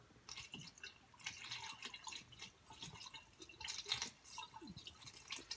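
Coolant is poured into the crossover of a 1996–2004 SVT Cobra's 32-valve V8 cooling system, giving a faint, steady trickle with soft dripping, quiet and close.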